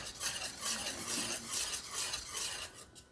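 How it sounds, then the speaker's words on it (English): A spoon stirs flour mixture into mixed berry pie filling in a bowl, with continuous close, wet scraping strokes in a steady rhythm. "I want to make sure the majority of that flour mixture is stirred in there good"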